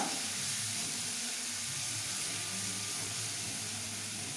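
Ginger and garlic sautéing in a pan over a medium flame for a tuna pickle make a steady, close, even sizzling hiss that holds unbroken throughout, with no talking.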